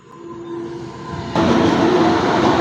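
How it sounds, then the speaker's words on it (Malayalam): A long goods train pulled by three engines rumbles past near Borra Caves, starting as a steady distant roll and swelling abruptly into a louder, broad rushing clatter as the wagons come close. "വലിയൊരു 3 എഞ്ചിനൊക്കെ ആയിട്ട് ഒരു ഗുഡ്സ് പോവുകയാണ്"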